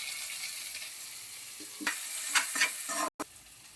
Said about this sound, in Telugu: ఇప్పుడైతే ఆనియన్స్ అయితే బాగా ఫ్రై అవుతాయి.